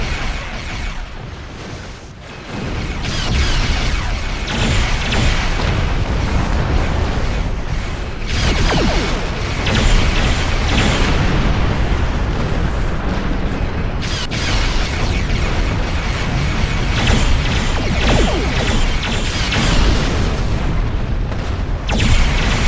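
Defensive cannon fire and explosions from the space game Star Trek Online form a loud, continuous barrage of booms and blasts that lasts throughout.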